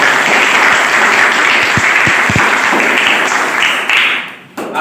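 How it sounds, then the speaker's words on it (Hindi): Loud, dense applause from a crowd of children at a school painting and essay competition event, sustained for several seconds before briefly dipping and resuming near the end. "मैं चाहूंगा कि सभी बच्चे जोरदार तालियों से"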